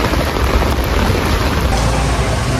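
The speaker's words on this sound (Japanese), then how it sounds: "雨めっちゃ強くなってきてるし、もう本当に。" Heavy rain pouring steadily during a flooding storm in a city, a loud dense continuous roar of rain with no voices.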